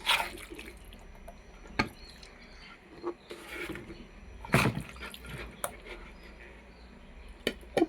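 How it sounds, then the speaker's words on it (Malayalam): Vinegar poured into a mango pickle bottle, heard as scattered drips, trickles and small splashes, close and fairly soft, with brief pauses between pours. "സുർക്ക ആവശ്യമുണ്ട് കുറച്ചുകൂടി ഒഴിക്കുക"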